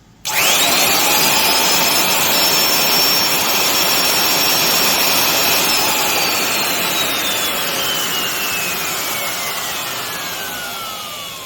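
A Makita 3612BR 1/2" plunge router starts abruptly with a loud, high-pitched whine and holds steady, then slowly winds down in pitch as it coasts to a stop.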